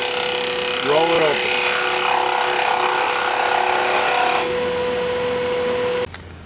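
Ambrosia maple spinning on a wood lathe and cut with a fingernail gouge gives a steady bright hiss with a constant motor whine, fading softer before the machine cuts off near the end; a voice speaks briefly early.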